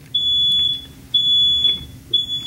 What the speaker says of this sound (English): I think that's a fire alarm